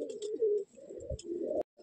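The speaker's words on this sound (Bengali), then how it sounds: "এই হলো দাদার প্রিয় নর পায়রা" A male Madrasi pigeon coos close by in a loft, a few soft low throaty rolling calls with brief pauses and faint chirps between them.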